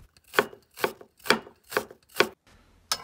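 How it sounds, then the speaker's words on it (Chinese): A knife chops scallion into slices for meatballs with six crisp, close, evenly spaced strokes on a cutting board, about two per second with a brief pause before the last, no voices. "再切点葱片"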